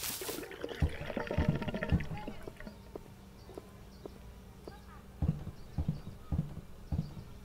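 The neighbor's footsteps in the video game Hello Neighbor thud in a loose series of separate steps, some clustered and some spaced apart, fairly soft against a faint buzzing background.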